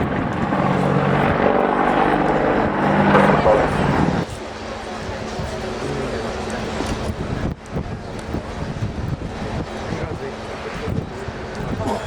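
An Apache helicopter flying at the Royal International Air Tattoo gives a loud, steady engine and rotor roar that shifts partway through, while a commentator talks over it and wind noise runs throughout.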